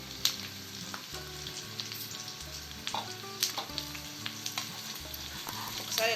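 Chicken pieces that were fried earlier crackle in hot oil with curry leaves for a Chicken 65. A low, steady sizzle runs under irregular spatters and a few sharp pops.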